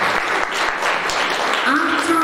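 Church congregation clapping steadily at a sermon, a dense continuous patter with a few sharper claps, and a voice calling out over it near the end.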